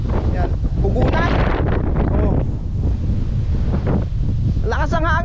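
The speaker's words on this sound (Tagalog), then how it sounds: "Lakas ang hangin." Strong wind by the sea buffets the microphone in a constant loud roar, with a voice speaking under it and brief higher tones near the end.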